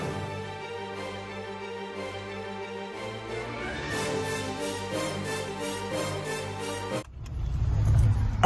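A car rolls up with a low engine hum that rises slightly, then a sudden louder rumble and rustle near the end, with no talk.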